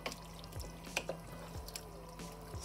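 Spaghetti bolognese sauce simmering in a pot on low heat, faint irregular bubbling pops and drips over a quiet steady hum, close and soft, no voices.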